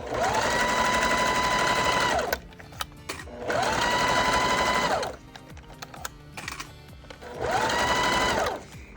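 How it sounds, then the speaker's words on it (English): A sewing machine stitches a seam with a 1/4 inch allowance on a bag, running loud and close in three steady whirring bursts separated by short pauses with faint handling noise. "I'm going to sew these together with 1/4 inch seam allowance."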